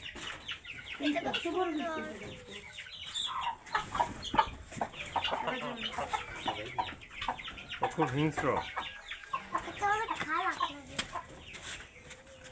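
Chickens and roosters at a bird park cluck and squawk in short, irregular bursts near the listener, mixed with a person talking over them.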